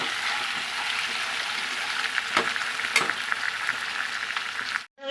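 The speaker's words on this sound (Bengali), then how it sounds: "এখন এই কচুটা এই কড়ার মধ্যে দিয়ে দেবো ভালো করে নেড়ে নেব" Boiled taro being stirred in a hot wok, giving a steady close hiss of frying with a few soft scrapes and knocks throughout, ending in a brief dropout.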